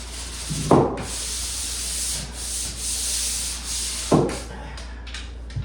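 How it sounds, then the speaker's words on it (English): Close-up scratchy rubbing of a paper-wrapped sanding block on wood into an inside corner, steady up-and-down strokes with a couple of sharper bumps, no voices. "Now remember, the sanding paper gets folded on the sides of this block"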